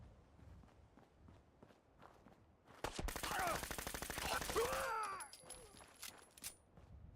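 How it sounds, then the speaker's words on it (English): A single sharp rifle crack from a pipe bolt-action weapon in Fallout 4 bursts out loudly midway, followed by a ringing, whirring tail amid game ambience and footsteps. "That was one shot with a pipe bolt action."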